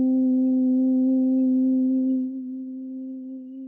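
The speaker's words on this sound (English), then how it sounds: "The exhale is a slow hum all the way out." A person hums with sealed lips during a slow exhale, one steady sustained tone lasting several seconds, close and clear, dropping slightly in pitch and loudness toward the end.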